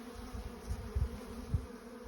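Honey bees from a weak nuc colony buzz faintly at close range, a low droning hum with a few soft louder passes, no talk.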